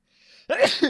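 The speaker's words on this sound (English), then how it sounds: "I need to sneeze." A quick breathy inhale followed by one sharp, close sneeze.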